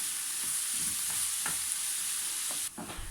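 A pan of ground beef and peppers, the stuffing for mhajeb, fries with a continuous sizzling hiss and soft stirring scrapes, fairly close; the hiss drops off sharply near the end. No voices.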